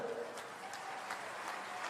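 Crowd applause at a political rally in Hindoli, Rajasthan, a steady dense wash of clapping lasting throughout at moderate distance, fairly quiet.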